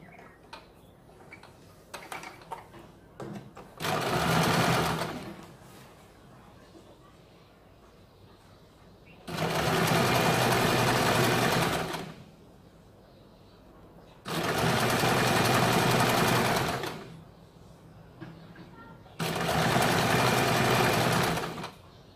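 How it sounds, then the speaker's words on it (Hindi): A sewing machine stitches the double-folded bottom hem of a kurti in four loud, fast-whirring bursts of a few seconds each, separated by quieter pauses with faint handling sounds. "फिर इसके ऊपर हमें ये सिलाई लगानी है।"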